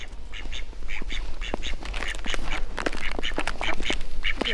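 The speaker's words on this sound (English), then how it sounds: "Three ducks, doing what three ducks do." Several ducks on a farm during a winter storm quack repeatedly and busily, close by, their calls overlapping in a continuous chatter over a low background rumble.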